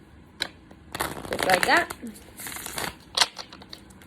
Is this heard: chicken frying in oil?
no